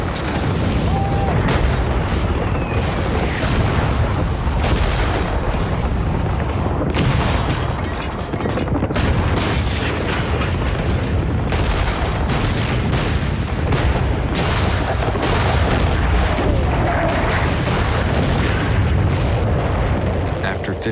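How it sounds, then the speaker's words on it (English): British artillery barrage in the First World War, shells firing continuously in a dense, loud rumble of overlapping booms and blasts that never lets up. "the British artillery unleashes a barrage of 4 million shells"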